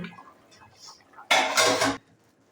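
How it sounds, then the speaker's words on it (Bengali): A cooking pot lid lifts off with a single loud metallic clatter lasting about half a second, set against a quiet kitchen background; the pot holds simmering potato curry. "আমি ঢাকনাটা খুলে এবার দেখছি আলুটা কতদূর হয়েছে।"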